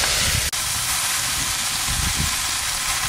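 Radish greens dropped into hot oil in a wok, giving a sudden loud, steady sizzle and hiss that carries on evenly without any voices.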